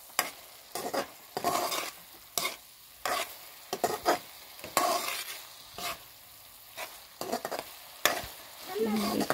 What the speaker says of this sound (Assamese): লগতে দিছোঁ জিৰা পাউডাৰ, এতিয়া মই অলপ লৰাই দিছোঁ।